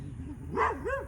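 Dog in a garden barking at another dog walking down the street, a couple of close, short barks with whiny, yelping tones over low background hum.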